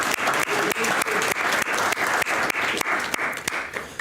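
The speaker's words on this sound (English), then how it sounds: "So another round of applause for Joseph." Sustained applause from an audience at a debate event, steady dense clapping for about four seconds with no break in the sound.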